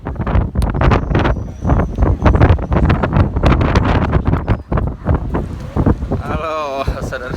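Strong wind beside a river in Melbourne buffets the microphone in heavy, continuous gusts, roaring loudly throughout with a brief faint tonal sound near the end.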